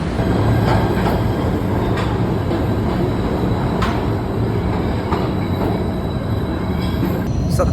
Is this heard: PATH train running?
yes